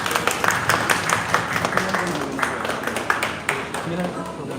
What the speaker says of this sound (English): let's give Mrs. Mori a round of applause